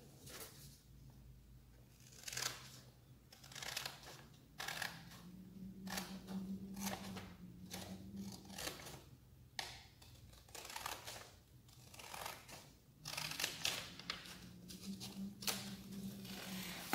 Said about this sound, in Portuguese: Você vai cortar nessa linha aqui